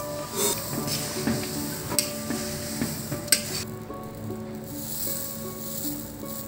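Thin poha flakes with fried onions are tossed and stirred in a frying pan for a crunchy Vidarbha-style chivda, giving a steady soft scraping and rustling with faint sizzle throughout, close and without talk.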